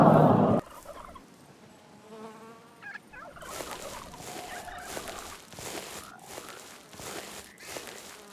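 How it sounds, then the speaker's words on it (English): A hen on a house farm gives a brief loud squawk, then a series of softer clucks and chirps with a few louder calls at close range. "The hen."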